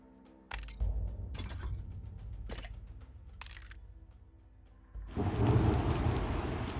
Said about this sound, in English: Ooh, rain sounds.